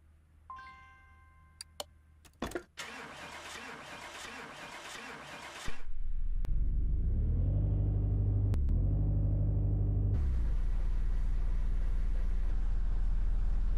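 A Mazda in Car Mechanic Simulator 2018 has its engine started after several clicks, then settles into a loud, steady low rumble with a rev change before driving off.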